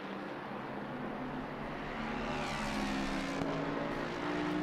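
A Ford Mustang race car drives during the 24 Hours of Spa endurance race. Its engine gives a steady, loud drone that swells slightly partway through, with no talk.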